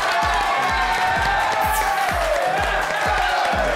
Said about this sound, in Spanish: Démosle un aplauso a Aldo Rendón.